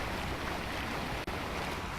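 A steady wash of boat engine and sea noise with wind in the video game Black Gold Online, constant and moderately loud, broken by one brief dropout.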